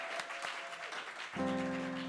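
Applause from an audience at The Bedford live venue with scattered claps, followed by a sustained musical tone entering partway through.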